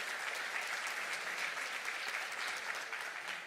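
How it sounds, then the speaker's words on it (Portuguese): Applause from an audience at a faith talk, a steady, even wash of many hands clapping, fairly quiet and distant, sustained without a break for the whole stretch. "Pode aplaudir."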